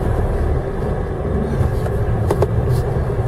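An earlier-model Commodore car rolls slowly down a backyard, its engine giving a steady, moderately loud rumble with a few faint knocks and rattles on top.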